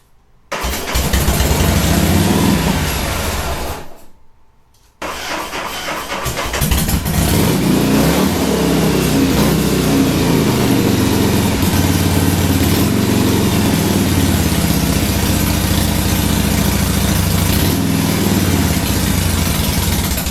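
A 1972 Harley-Davidson FLH Shovelhead engine cranks and catches, sputters and briefly cuts out, then fires up again and settles into a loud, steady, close rumbling idle.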